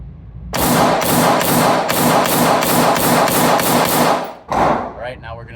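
A Staccato XC pistol fires 147-grain Badlands Jello rounds in a rapid string of about nine sharp, loud, close reports, followed after a short break by one more shot.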